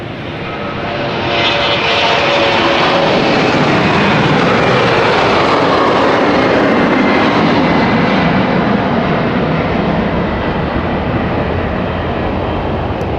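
A CityFlyer airliner takes off at London City Airport, a loud jet roar building over the first two seconds and holding as a broad, sustained rumble and whine to the end.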